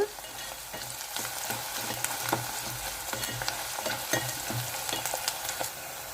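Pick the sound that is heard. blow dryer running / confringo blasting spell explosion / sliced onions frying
sliced onions frying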